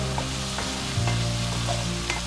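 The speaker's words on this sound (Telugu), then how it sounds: "నెక్స్ట్ 1 టేబుల్ స్పూన్ ధనియాల పొడి వేసుకోండి. కొంచెం జీలకర్ర పొడి వేసుకోండి. చాలా తక్కువ గరం మసాలా వేసుకోండి. ఇప్పుడు వీటిని బాగా కలుపుకోవాలి." Prawns stirred in a hot frying pan with coriander powder, cumin powder and a little garam masala, a steady sizzle with soft scraping of the spoon, no voices.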